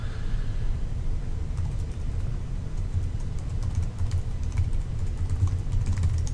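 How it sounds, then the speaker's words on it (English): Steady close-up clicking of keys being typed on a computer keyboard, a fast irregular patter over a low background rumble, with no voices. "Just gonna type this thing."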